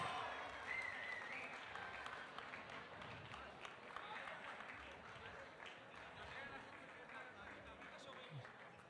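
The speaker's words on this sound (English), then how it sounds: "Big applause." Applause from the crowd at a youth bouldering finals prize ceremony in Graz, steady clapping with scattered cheers and chatter, heard at a distance in a large venue.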